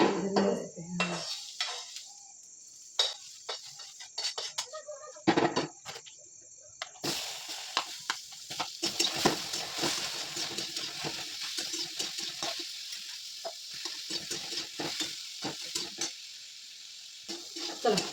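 Tomatoes roast in a hot kadhai, first with scattered metal clinks and scrapes of a utensil, then a continuous crackling sizzle that fills the rest, with occasional voices nearby.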